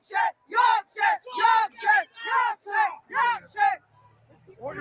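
Crowd of rioters in London shouting in loud, rhythmic bursts, about nine chant-like yells in quick succession, close and forceful, then a quieter tail of mixed voices.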